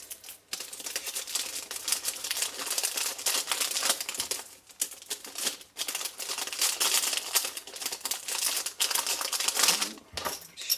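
A cellophane sweet bag crinkles continuously as sweets are pushed down into it with scissors, a close, busy rustling with brief pauses.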